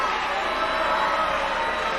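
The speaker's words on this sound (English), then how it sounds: "I'm a little surprised at the crowd's reaction" Steady murmur of a high school basketball crowd in a gym at a 1987 boys game between Jefferson and Kennedy, a continuous diffuse roar of voices with no distinct cheering peaks.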